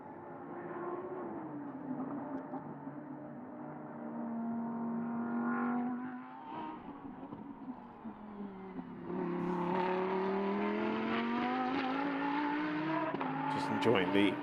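5.2 litre V10 GT race car at Paul Ricard, a faint engine note rising and falling through gear changes, then a louder climbing wail as it accelerates, with commentary voices over it.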